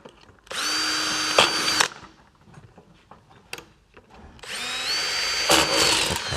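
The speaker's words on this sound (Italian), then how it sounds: "A questo punto perforiamo con una punta da 4 la nostra guarnizione inferiore." Two bursts of a power drill, a 4 mm bit boring through a rubber gasket during ladder fitting on a Fiat Ducato van, each run steady and loud for about a second and a half, with faint clicks and handling noise between.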